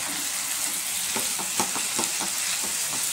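Close stirring and mixing of vegetable chop filling with crushed toast in a hot pan, a steady sizzle under a series of soft rhythmic scraping strokes.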